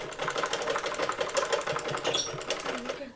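Electric sewing machine stitching the neckline of a saree blouse, a steady close rapid motor whir with dense even needle chatter running throughout.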